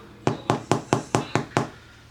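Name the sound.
knocking on a baked sourdough bread loaf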